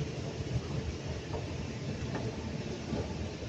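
Underground MRT train at Havelock station, a dense continuous rumble with faint rattling that stays loud and steady throughout, no talk.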